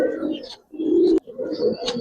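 A Giribaz pigeon coos close by in a few soft, low, throaty bursts separated by short pauses.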